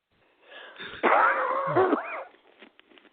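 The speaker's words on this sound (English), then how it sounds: "I apologize once again for my cough" A raspy, wheezing cough erupts close by, lasting about a second with a strained, throaty rasp, then fades into quiet.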